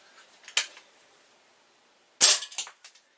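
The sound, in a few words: Stoeger A30 .177 air rifle shooting lead pellets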